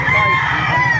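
Kelso and bulik gamecocks crow at a poultry market in Baliuag, Bulacan, with a loud, close crow that fills the moment over a busy background murmur.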